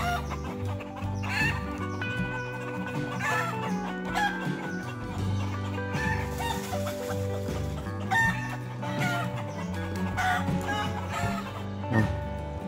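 Chickens cluck continuously around their roost tree at a Thai temple, Wat Latthikawan in Mukdahan, with several birds calling over one another at close to middle distance and occasional rooster crows.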